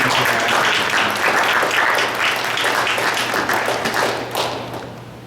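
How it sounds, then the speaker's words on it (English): A seminar audience applauds, a dense wash of many hands clapping steadily at close range, then thinning out and fading toward the end. "Please give a round of applause to members of that."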